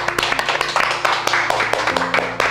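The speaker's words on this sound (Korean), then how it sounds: "우리 하나님께 박수 한번 하겠습니다" A Korean church congregation claps in a quick, even rhythm to praise God, with sharp repeated claps over sustained music tones and murmuring voices.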